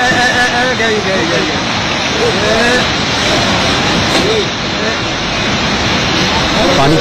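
A flooded river near a highway rushes past in a loud, continuous roar of churning water, steady throughout, with faint voices in the background.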